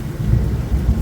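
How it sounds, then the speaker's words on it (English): Deep rumble of thunder during a severe thunderstorm with heavy rain in West Edmonton, a low continuous roll heard loud and close with steady rain hiss over it. "that's what it's rumble of thunder"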